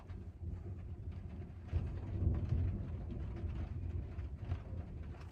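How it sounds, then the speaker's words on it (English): A low thunder rumble rolls through a storm near Tulsa during a tornado warning, a steady deep roar that swells in the middle and then holds at moderate loudness, heard from inside a van with no talking. "there's a rumble of thunder."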